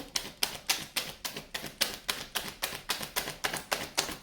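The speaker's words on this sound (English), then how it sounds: "this is the last shuffle" Crisp, rapid flicking and snapping of tarot cards being shuffled at a steady rhythm, about three per second, close and fairly quiet.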